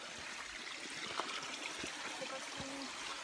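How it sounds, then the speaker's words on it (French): A natural waterfall at Reinhardstein castle in Belgium, heard as a steady faint rush of falling water with a few scattered thumps and distant noises over it. "Voilà la cascade."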